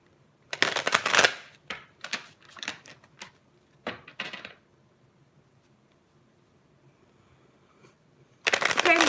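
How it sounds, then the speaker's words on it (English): Tarot card decks are shuffled in several bursts of crisp riffling and flicking, close and loud, separated by quiet pauses, with another shuffle starting at the end. "We'll shuffle the decks in the meantime."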